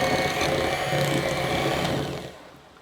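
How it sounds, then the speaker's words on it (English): A hand mixer whirring steadily as it beats softened room temperature cream cheese for frosting, a loud continuous motor whine that winds down at the end. "We'll come in here with a hand mixer."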